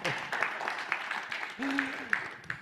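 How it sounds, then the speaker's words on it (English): Audience applause at a talk fills the room as a steady wash of clapping, with a voice briefly sounding over it partway through. "So, round of applause, first of all."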